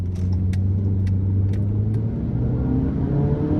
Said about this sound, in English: Come on, little 4-cylinder, let's go!